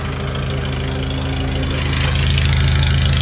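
A Toyota Vigo 4x4 pickup's engine idles close by, a steady low rhythmic rumble with a constant throb, loud and unbroken.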